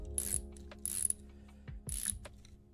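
A balisong knife's pivot screw being tightened, with a few faint, close mechanical clicks and rasps spaced about a second apart against a quiet background.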